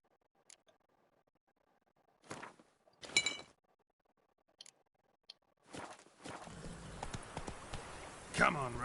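Roach, the horse in the video game Witcher 3, clip-clops on the ground: a few scattered hoof thumps separated by quiet gaps, then a steadier run of hoofbeats with a voice over them.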